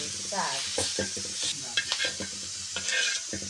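Masala roasts in hot oil and is stirred by hand, giving a close sizzle with repeated scraping and stirring strokes throughout, all with no talk.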